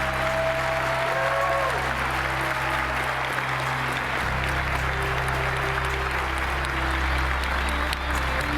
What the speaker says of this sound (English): I would like to ask all of us to give them a big round of applause